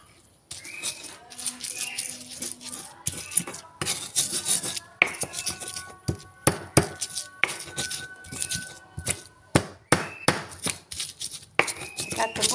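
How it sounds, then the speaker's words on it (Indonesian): Spices are pounded in a mortar and pestle for prencook, a Wonosari Gunung Kidul dish, making close, rhythmic grinding thuds and scraping strokes, repeated steadily throughout. "akan tumbuk bumbunya dulu"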